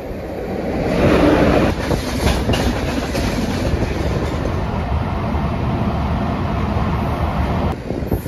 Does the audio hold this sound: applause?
no